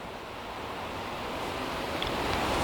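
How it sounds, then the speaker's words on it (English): Strong outdoor wind gusting around 30 to 35 miles an hour buffets the microphone in a steady, loud rush that swells slightly toward the end, with no talking. "the wind is blowing at about 30, 35 miles an hour at times"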